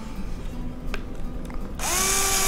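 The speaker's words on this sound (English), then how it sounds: "we'll go ahead and drill some pilots" A power drill boring pilot holes into wood, heard as faint intermittent whirs and clicks that give way to a loud, steady high-pitched drilling whine near the end, with no talking.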